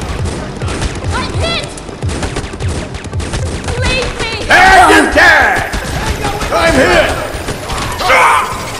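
Colt 1911 pistol fire in the mobile shooter game Modern Strike Online, dense loud gunshot bursts with impacts and game voice callouts layered over busy battle noise.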